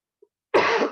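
A single short, harsh, explosive cough burst from an adult with a long-standing chronic cough, preceded by a tiny faint click, close and fairly loud indoors.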